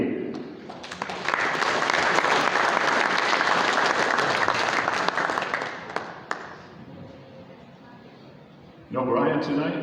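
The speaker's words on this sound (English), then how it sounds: "Let's give him a big round of applause." Loud audience applause at a racing awards banquet swells quickly and holds for about five seconds, then fades to scattered claps before a burst of voices returns at the end.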